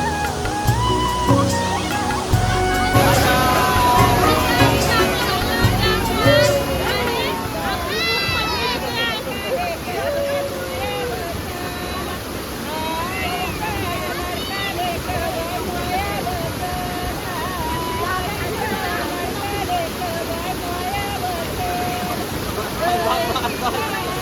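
A steady roar of rushing water at the Usrai waterfall fills the scene near and loud, with a woman singing and people talking over the constant wash.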